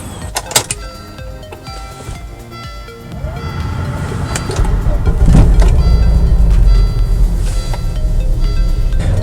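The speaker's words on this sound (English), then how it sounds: "driving the 1998 Volvo S70 T5 manual" A manual 1998 Volvo S70 T5 with high mileage is being driven. Broadband road and engine noise builds steadily louder over several seconds, with a few brief clicks and knocks early on.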